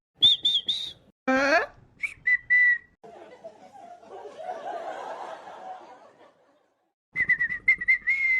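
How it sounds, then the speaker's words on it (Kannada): A whistle is blown in several short tweets at the start, then a longer rising blast with laughter-like voices, a gap of murmuring chatter, and a final run of rapid shrill whistle blasts. "ಏನು ಸಿಟಿ ಓದೋ ಸೌಂಡ್ ಜಾಸ್ತಿ ಆಗ್ತಾ ಇದೆ, ಯಾಕ?"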